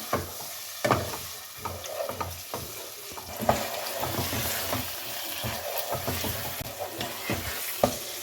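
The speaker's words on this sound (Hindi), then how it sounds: "अब दाल माश को इसके अंदर भून लें, मसाले के अंदर अच्छे तरीके से इसको भून लें।" Soaked dal mash (urad lentils) sizzles and fries in hot masala while a spoon scrapes and stirs it steadily, with irregular clacks against the pan and a continuous frying hiss throughout, fairly close.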